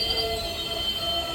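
Nagercoil Express pulling out of a station on a single-line route toward Dindigul, a steady loud rolling rumble with high metallic wheel whine running throughout, close and continuous, no voices.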